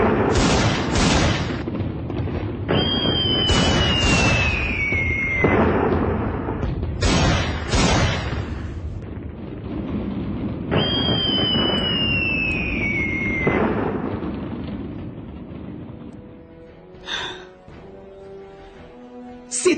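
Gunshots in a Portuguese-language audio drama, a series of sharp loud bangs spaced across the scene with ringing, descending tones after some of them, followed by a quieter tail.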